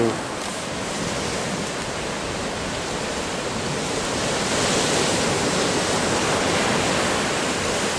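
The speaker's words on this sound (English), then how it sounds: "Waterfall on the top there." Constant rushing roar of a waterfall, a dense steady wash of falling water with no pauses.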